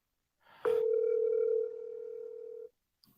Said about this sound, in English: I'm calling Mike Night Strike